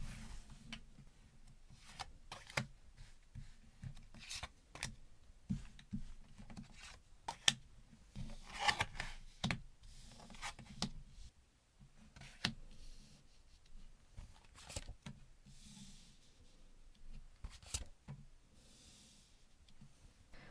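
Tarot cards are cleared away and new ones drawn, giving soft, scattered clicks, slaps and light patter. The handling is close and quiet, with irregular pauses and no talking.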